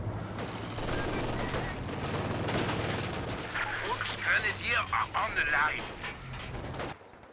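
A machine gun lays down sustained suppressing fire in a Company of Heroes 2 battle, a dense continuous rattle of gunfire under a distant hum, with scattered shots and battle noise layered in.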